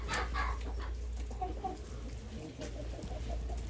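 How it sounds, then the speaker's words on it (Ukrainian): Several chickens cluck softly and intermittently close by, with low background noise and no talking. "і ця моя біла лиса курка якась"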